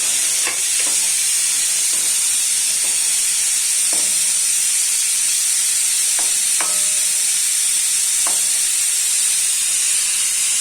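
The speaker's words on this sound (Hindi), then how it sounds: "आप इसमें डाल देंगे लहसुन, और लहसुन को फ्राई कर लेंगे थोड़ा सा" Garlic with softened onions fries in a pan, giving a steady hiss with a few faint clicks of stirring, heard alone.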